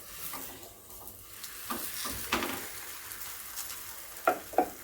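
Faint sizzling and frying as a sweet poli flatbread lands on a hot oiled pan in a home kitchen, a soft continuous crackle with a few small pops and scrapes, no voices.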